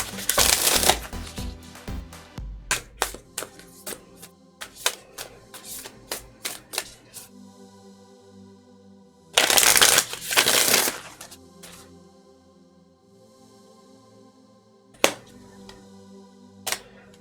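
Beyond Lemuria oracle cards being shuffled up close, with bursts of riffling and flicking card sounds in quick runs, a louder shuffle in the middle and a final one near the end, with no speech.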